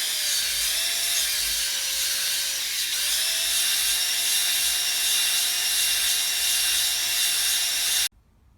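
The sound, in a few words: honing BSA Fury motorcycle engine cylinder barrel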